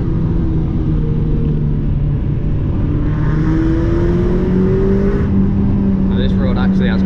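Mazda MX5 driving on a road with loose gravel, the engine droning steadily from inside the car and climbing gradually in pitch as it accelerates, with a faint voice over it near the end.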